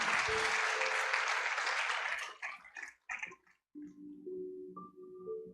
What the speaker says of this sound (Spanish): Usted quiere darle un fuerte aplauso al Espíritu Santo de Dios.